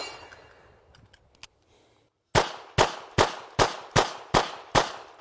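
Handgun fired in a fast accuracy drill: seven sharp, loud shots in quick even succession after a quiet pause with a few faint clicks and handling sounds.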